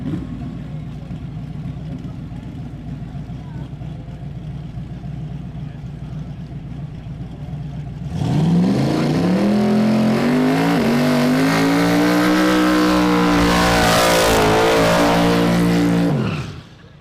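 A turbocharged truck on a no-prep drag race run: a steady low engine rumble gives way to a loud, close roar that climbs and wavers in pitch as it revs hard, then cuts off.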